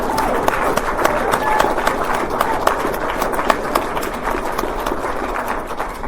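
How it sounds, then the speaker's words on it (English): A convention audience applauds the event's speakers: sustained, dense clapping that holds at a steady level throughout, with some crowd voices mixed in. "Can we get another round of applause for all of our speakers?"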